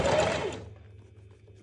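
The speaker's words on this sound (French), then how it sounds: "vous piquez bien droit à 1 cm du bord" Sewing machine running a straight stitch through double-layered fabric 1 cm from the edge, a loud close whirring burst that stops after about half a second, leaving a low motor hum.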